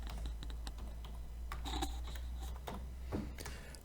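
Someone types a customer's name on a computer keyboard while entering details into marina management software. Fairly quiet, irregular key clicks come in short bursts over a low steady background hum, with no talking.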